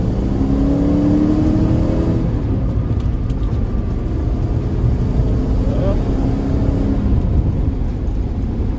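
A 1979 Porsche 928 with a five-speed manual accelerates hard up a highway on-ramp. The close, loud engine drone rises in pitch as it revs through the gears over a constant road rumble.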